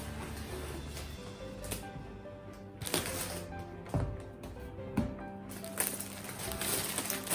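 A package of dresses, two tops and a readymade churidar, is unboxed up close, with crinkling plastic and paper rustling, tearing and a few sharp handling knocks, no talk.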